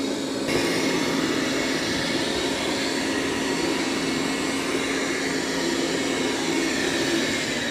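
A Dreame L40 Ultra robot vacuum runs over carpet, giving a continuous whirring drone that stays loud and steady from near by.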